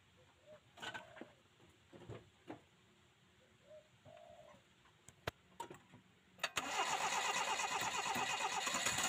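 Birds coo in the background, then a small engine running on fuel from a soft-drink bottle catches and roars to life, running loudly and steadily to the end.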